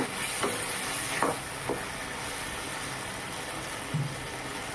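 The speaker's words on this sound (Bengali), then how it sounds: "আবার বেশ কিছুক্ষণ নেড়ে চেড়ে নিলাম।" Poppy seed paste with turmeric is stirred in a pan over a low frying hiss, with a few distinct scraping strokes of a spoon spaced out across the moment, close and moderately loud.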